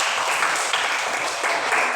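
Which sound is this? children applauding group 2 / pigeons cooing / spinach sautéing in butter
children applauding group 2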